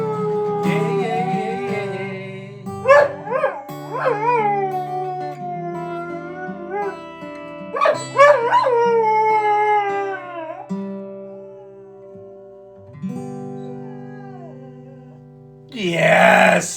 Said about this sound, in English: yes, that's a good singing dog.